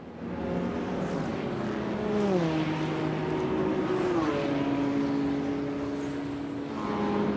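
Race car engines at the 24-hour Nürburgring endurance race, loud and sustained, with pitch sliding up and down as cars pass and shift gears, several engines overlapping with no voices.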